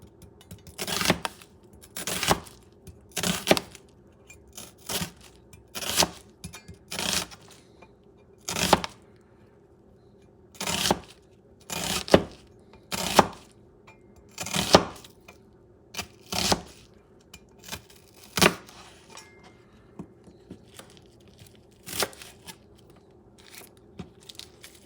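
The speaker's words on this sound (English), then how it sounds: "Sharp knife. And I start cutting these babies." A sharp knife chops through bison liver and onions on a board, a series of crisp, irregular cutting strokes close up, separated by short quiet pauses.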